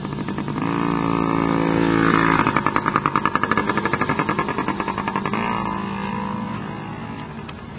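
Dirt bike engine ridden nearby, a buzzing two-stroke-like drone that revs up, pulses with throttle blips, then fades and trails off as the bike rolls away, no talk.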